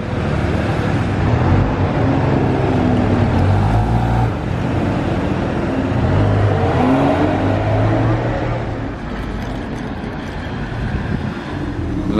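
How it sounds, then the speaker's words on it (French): A Maserati drives through the streets of Monaco, its steady engine drone and low rumble rising and falling with gear changes, with wind buffeting the microphone and a voice talking over the car. "La Maserati improbable"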